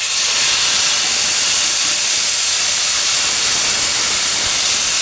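Taro leaves dropped into hot oil in a pan, giving a loud, steady, broadband hiss of frying that holds evenly for about five seconds before cutting off abruptly.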